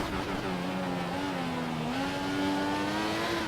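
Race car engine in the F1 2014 game at full throttle out of a corner at the Belgian Grand Prix, a loud steady high-pitched whine climbing through the revs with a brief dip for a gear change, close and continuous.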